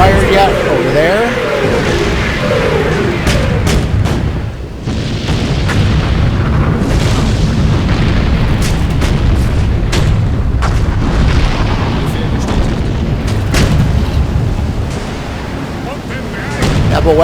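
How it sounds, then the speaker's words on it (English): Bombard artillery firing on a tank in the WWII strategy game Sudden Strike 3, German campaign, with loud booming shots and battle noise throughout, and someone talking over it. "Get the bombard on this stray tank."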